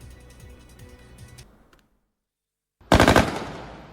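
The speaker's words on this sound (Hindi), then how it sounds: "रात के अंधेरे में ताइपे की सड़कों पर बख्तरबंद गाड़ियां, दनादन गोलियां भी बरस रही हैं" Rapid gunfire from soldiers on armored vehicles in night-time Taipei streets, a burst of sharp rattling shots that stops, leaves a brief silence, then erupts again much louder and decays.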